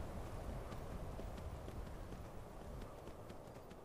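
Horse hooves clattering down stone steps in a video game, a steady run of clip-clop hoofbeats over a dense, continuous game soundscape with no talk.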